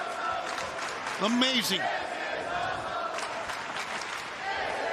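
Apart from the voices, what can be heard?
wrestling arena crowd cheering and applauding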